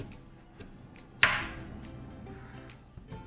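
A single knife chop through a large carrot being halved for carrot halwa, one sharp crisp cut near the middle of a quiet kitchen scene with a few faint taps around it.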